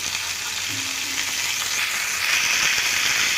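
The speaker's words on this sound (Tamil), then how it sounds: "இதை வதக்கி விட்டுக்கலாம் கொஞ்சம் கருவேப்பிலை சேர்த்து வதக்கிக்கலாம்" Spring onion chutney being sautéed in a pan, a steady close sizzle and frying crackle that holds evenly throughout with light stirring.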